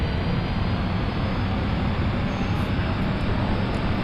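Cessna C208B Caravan turboprop in the X-Plane 11 flight simulator, its engine run up to full power as a loud, steady, unbroken broadband roar with no variation across the whole stretch.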